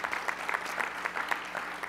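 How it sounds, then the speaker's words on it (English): A session audience at a Berkeley carbon-neutral technology event claps in a soft, steady patter, fairly quiet and distant, with no voices over it. "I think we owe them a nice round of applause for doing that."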